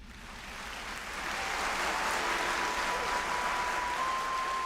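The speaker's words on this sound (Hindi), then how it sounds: "कुछ ऐसे भी हैं इनमें जिनका स्वागत तालियों से होता है।" Applause welcoming people in a Hindi-dubbed movie scene, a wash of clapping that swells over the first seconds and then holds steady, with a faint tone running beneath it.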